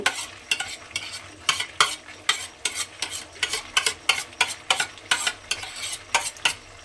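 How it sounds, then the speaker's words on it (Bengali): Grated boiled egg is stirred into a frying poppy-seed spice paste, with a brisk, regular rhythm of utensil scrapes against the pan over a continuous hiss of frying. "ডিমটা আমি এর মধ্যে দিয়ে দিলাম। দিয়ে এবারে খুব ভালোভাবে কিন্তু এটা মিশিয়ে একটু রান্না করে নিতে হবে।"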